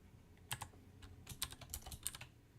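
Typing on a computer keyboard while studying for the Azure AZ-204 exam, heard as faint, irregular clusters of quick key clicks with soft gaps between them and no speech.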